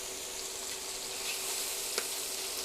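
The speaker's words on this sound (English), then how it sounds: "And now I'm going to put in the mushrooms. The mushrooms are going to cook down." Mushrooms cooking in butter in a pan, giving a steady, close sizzle and fry with a faint stir near the end.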